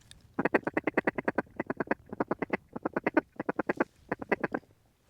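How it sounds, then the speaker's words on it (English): Mallard ducks quacking at a waterfowl hunt, a steady run of loud, close, repeated quacks in rapid bursts with brief pauses between calls, no talking. "Those are mallards."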